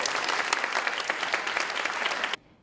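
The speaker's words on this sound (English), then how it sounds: "please, everyone give yourselves a round of applause" An award ceremony audience breaks into a dense, loud round of applause with many hands clapping at once, sustained evenly before cutting off abruptly into near silence.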